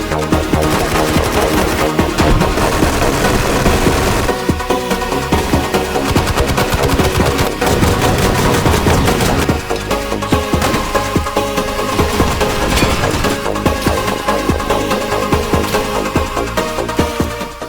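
Rapid, dense gunfire from the VR shooter game H3VR, firing new pistols, roars almost without pause for the whole stretch, loud and close, with no voices over it.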